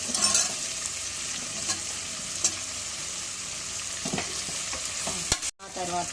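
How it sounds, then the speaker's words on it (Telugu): Curry leaves, onions and green chillies fry in a pan with a steady close sizzle and occasional stirring scrapes, a voice speaking briefly at the start. "ఆ తర్వాత కరివేపాకు ఆనియన్స్ పచ్చిమిర్చి కొంచెం వేగగానే మనం కట్ చేసుకున్న ఆలు కూడా వేసుకోవాలి"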